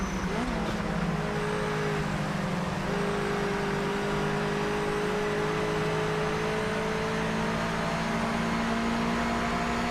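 A Mazda MX-5 drives in the racing game Project Motor Racing, its engine a continuous droning hum with a rising tone as it accelerates steadily, heard alone throughout.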